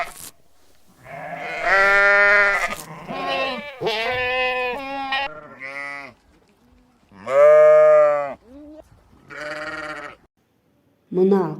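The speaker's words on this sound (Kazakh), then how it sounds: "Бұл қой." A sheep bleats loudly and close up several times, the drawn-out wavering cries separated by short silences.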